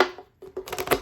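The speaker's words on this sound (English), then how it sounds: "Almost done shuffling your cards here." Tarot cards are shuffled close by in short crisp riffling bursts, with a quick flutter, a brief pause, then another rapid run of card slaps.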